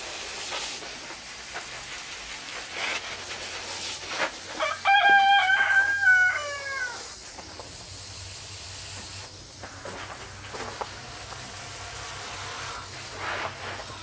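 A rooster crows once clearly in a backyard garden, a mid-distance call lasting about two seconds, over a steady hiss of rain or water and faint background clucking, with no talk.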